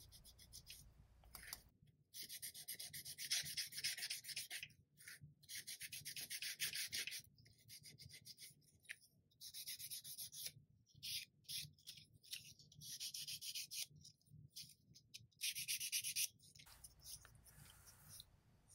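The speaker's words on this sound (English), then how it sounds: "just go in and just give it a nice light sand up in those areas" Light hand sanding of a small 1:12 scale miniature stove part, close, faint scratchy rubbing strokes in repeated bursts with short pauses between, no voices.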